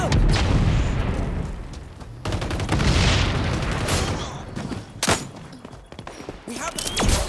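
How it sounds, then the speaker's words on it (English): In the shooter XDefiant, a grenade detonates with a heavy boom amid ongoing loud gunfire and rattling shots, while voices speak over the battle. "Grenade out."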